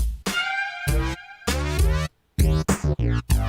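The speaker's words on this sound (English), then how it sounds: "this is the flanger." Dance music in Virtual DJ with a sweeping, whooshing flanger effect swirling over the beat, playing in bursts with short gaps between them.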